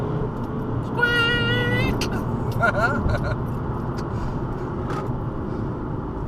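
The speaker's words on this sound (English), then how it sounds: "it's in sport mode, you just floor it. It still sounds like a diesel, but it is quick." A 2011 Skoda Octavia vRS diesel floored in sport mode, its engine note climbing hard and droning beneath someone talking from inside the cabin.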